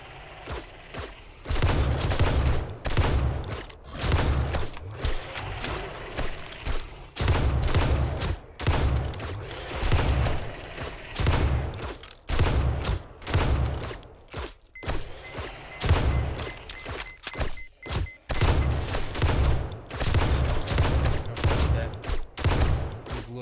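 Explosions and rapid gunfire in the survival video game 7 Days to Die, with dense, loud bursts of shots and heavy booms repeating in waves, nearly continuous, with no talking.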